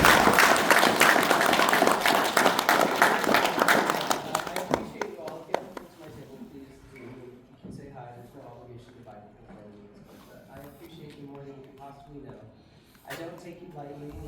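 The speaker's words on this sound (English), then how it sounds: "I want you guys to give this man a round of applause." An audience at a panel with actor David Yost breaks into loud applause and cheering, fading after about five seconds into quieter scattered clapping beneath someone talking to the crowd.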